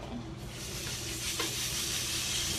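A burger patty seasoned with a rub hits a hot surface and sizzles in a steady, close, broadband hiss that holds evenly throughout without pause.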